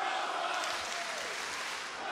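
A steady roar of cheering and applause from a wrestling crowd backing Thunder Rosa, broad and continuous throughout, with a commentator's voice faintly over it.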